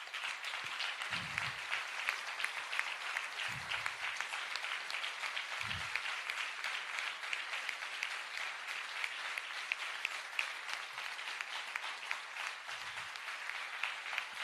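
Sustained applause from a crowd at the PCE festival in Madrid, steady clapping throughout with no voices standing out.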